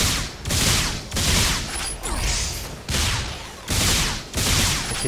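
Rapid video-game gunfire aimed at a sphere, loud sustained bursts that repeat in roughly half-second waves, with no talking over them.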